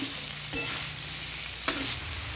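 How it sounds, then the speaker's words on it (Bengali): A beetroot and potato fry with turmeric is stirred in a pan, a soft steady sizzle broken by two brief scraping strokes of the spoon. "দেখুন আমি নেড়ে নিচ্ছি।"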